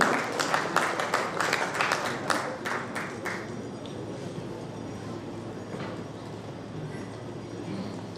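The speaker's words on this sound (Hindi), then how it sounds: "जोरदार तालियां हो जाएंगी" Audience applause at a formal government education ceremony marking an MOU exchange: a dense burst of clapping that tapers off after a few seconds into quiet room murmur.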